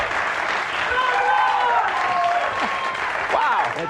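Late-night television studio audience applauding steadily and loudly throughout, a dense wash of clapping, with a voice speaking over it near the end.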